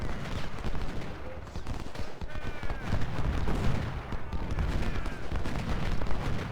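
Civil War artillery guns firing in Ultimate General: Civil War, a dense, continuous volley of distant cannon and rifle fire crackling and thudding throughout.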